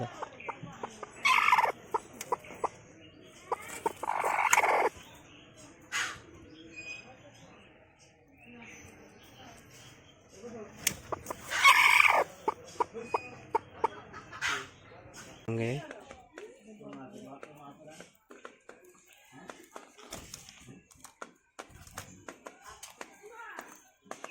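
Domestic hens cluck close by in bursts, with scattered taps and rustles. People talk at times over the birds.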